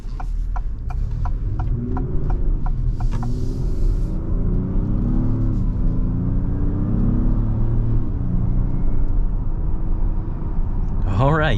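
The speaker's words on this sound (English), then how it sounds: "2022 Acura MDX Type S. This thing sounds amazing and very nice and responsive" A 2022 Acura MDX Type S drives along with a steady, low engine rumble and road noise throughout, a few brief ticking clicks early on, and a faint rising rev near the end.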